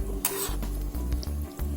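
Chicken pieces are stirred with turmeric in a pan of liquid, giving soft repeated scraping and swishing strokes over a low steady bubbling hum.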